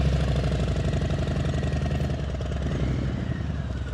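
A motorcycle engine putters steadily at slow speed during low-speed riding practice, a close, even low-pitched chugging that holds throughout with no voices.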